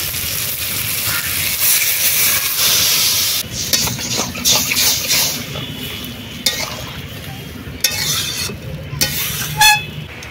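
Dried mango water poured into a hot pan of crab curry, a loud steady sizzle that breaks into hissing steam and bubbling, with a few sharp clinks of a utensil toward the end.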